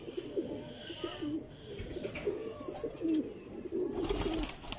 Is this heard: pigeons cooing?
yes